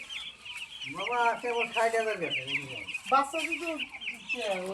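A dense, steady chorus of eight-day-old broiler chicks clucking and peeping together while eating, fairly close, with continuous overlapping calls throughout.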